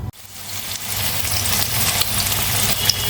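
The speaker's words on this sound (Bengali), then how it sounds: "এইবার দেখো এখানে পনিরগুলো ভাজছি" Paneer pieces frying in hot oil in a wok, a steady, dense sizzle that holds loud and close throughout without any talk.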